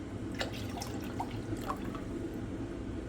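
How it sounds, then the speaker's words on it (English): White vinegar is poured into a pickle brine, giving soft close trickling and dripping sounds with small splashes over a low steady background, with no talk. "Then we're going to add 1 cup of white vinegar."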